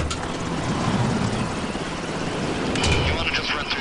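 Firefighting helicopter in flight over a large wildfire, a steady loud broadband rotor and engine roar filling the whole clip with no break.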